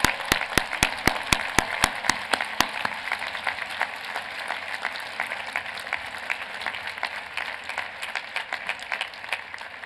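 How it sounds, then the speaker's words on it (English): Loud, crisp rhythmic claps open into a thick, sustained wave of applause from a large audience at the 2014 University of Pennsylvania commencement, honouring graduating students, holding steady for around ten seconds. "I ask the audience to join me in applauding these outstanding young men and women."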